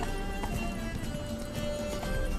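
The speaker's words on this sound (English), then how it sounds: "Hop in the saddle! Gotta catch it! Come on, Roach." Roach the horse gallops in The Witcher 3, steady rapid hoofbeats close by with a game score and ambient noise running underneath.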